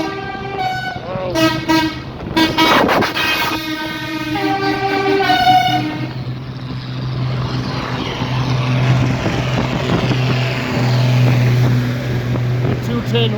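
McCormick 210 tractor on a Christmas lights tractor run at night, a loud horn toot sounding several times at the start, then a steady rattling engine drone with a low hum, people talking nearby.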